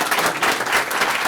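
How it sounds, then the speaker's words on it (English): Steady applause fills a council meeting room, a dense and even wash of many hands clapping close by for the whole short stretch, with no voices over it. "Round of applause, everyone."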